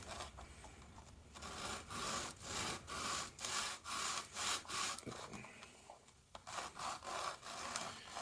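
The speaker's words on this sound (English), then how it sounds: "I'm just gonna scuff it up a little bit, make sure that the epoxy sticks to it." Close, steady rasping of roughly 80 grit sandpaper scuffing a plastic part of a 1/6 scale Rochobby 1941 Jeep MB RC model, in rhythmic back-and-forth strokes with brief pauses, no talking.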